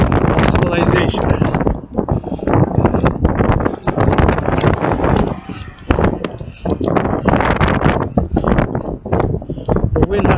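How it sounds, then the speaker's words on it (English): Strong gusting wind buffeting the microphone outdoors, a loud rough rumble that surges and drops, with a voice speaking over it. "The wind has picked up a bit,"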